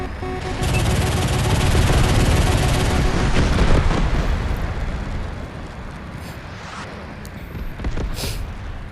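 Sustained, loud gunfire and explosive roar in the combat flight game War Thunder, a dense continuous blast lasting several seconds before tapering off slightly, with no talking over it.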